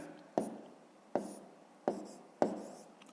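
Pen writing numbers on paper during a fifth-grade math exercise: four distinct, close taps and short scratches spaced roughly evenly, each sharp onset fading quickly, quiet and alone without voices.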